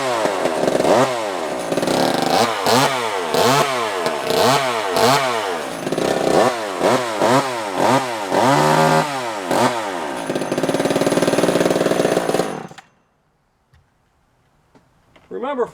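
Vintage JOBU SL2 chainsaw two-stroke engine started and run, loud and close, with repeated revving bursts for about ten seconds, then a steady high rev that cuts off abruptly into near silence.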